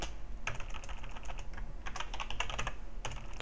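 Close, rapid typing on a computer keyboard while writing Qt C++ code, with bursts of clattering keystrokes separated by short pauses.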